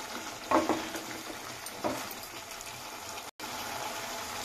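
Fried okra being stirred and cooked down in a pan with a spoon, with a low steady sizzle and a couple of louder scraping stirs, close and unaccompanied by speech.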